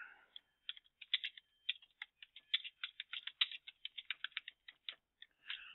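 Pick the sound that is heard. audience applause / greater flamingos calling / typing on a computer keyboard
typing on a computer keyboard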